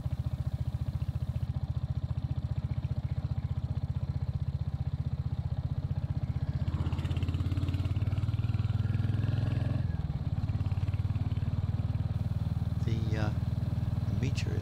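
A Royal Enfield Hunter motorcycle engine thrums steadily with a pulsing low beat while riding, close and continuous, with a voice talking over it at times.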